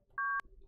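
Telephone keypad tones while dialing a pizza order: one clean dual-tone beep, a short click, then the start of a second beep, close and clear with no talking.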